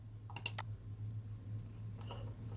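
A computer mouse clicks a few times in quick succession, sharp and close, against a quiet steady hum, then a couple of softer clicks follow.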